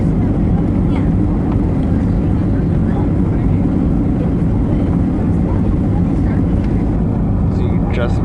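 Inside the cabin of an Alaska Airlines Boeing 737-800 on approach to Lihue, a loud, steady engine and airflow roar fills the whole stretch without letup, with a voice talking beneath it.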